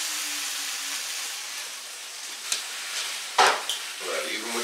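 Leftover stir-fry noodles get stirred around a Copper Chef 10-inch frying pan, giving a soft low sizzle with a few sharp scraping and sliding sounds of the utensil against the pan.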